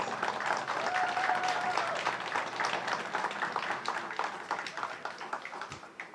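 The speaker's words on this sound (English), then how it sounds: "Can we have a round of applause for that team, please?" Audience applause for an event planning team at a Dunkirk summer lakeside event, a steady wash of many hands clapping that slowly thins out, fairly distant.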